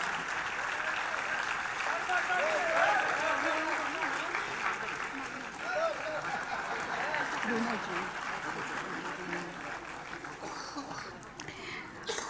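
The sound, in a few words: audience applauding loudly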